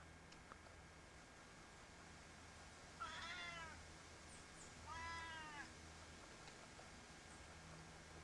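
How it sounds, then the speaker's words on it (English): A cat meows twice in the background outdoors on a house patio, two faint, short, wavering calls a couple of seconds apart over a low, steady ambient hiss. "You can hear Morty in the background making his noise as usual"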